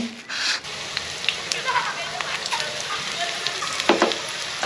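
Fritters in besan batter sizzle and crackle in hot oil, a steady close fry with sharp pops, while people talk over the cooking.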